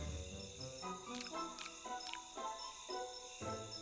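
A cricket chirps in a Philippine island forest, faint, steady trilling pulses repeating at a regular rhythm beneath a quiet background hum.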